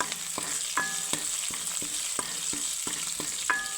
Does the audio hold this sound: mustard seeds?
yes